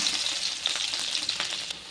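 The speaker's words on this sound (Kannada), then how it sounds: "ಜಜ್ಜಿ ಇಟ್ಕೊಂಡಿದ್ನೆಲ್ಲ ಬೆಳ್ಳುಳ್ಳಿ ಹಾಕ್ತೀನಿ ನೋಡ್ರಿ." Crushed garlic sizzles steadily in hot oil for a tempering, a continuous bright frying hiss with small pops, close and alone.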